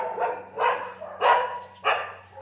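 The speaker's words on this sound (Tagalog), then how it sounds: "Ang aso." Dog barking during an early morning walk through a residential subdivision in Cebu, four short barks in a steady rhythm, moderately near, with no one talking.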